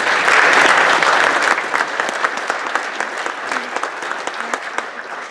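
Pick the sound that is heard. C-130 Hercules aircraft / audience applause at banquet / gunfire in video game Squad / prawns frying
audience applause at banquet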